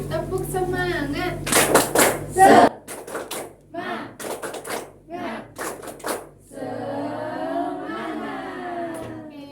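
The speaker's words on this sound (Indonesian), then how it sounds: "Sekali lagi, tepuk semangat." A class repeats the rhythmic tepuk semangat clapping in a micro-teaching accounting lesson, with patterned bursts of close hand claps mixed with chanted voices, followed by sustained talking.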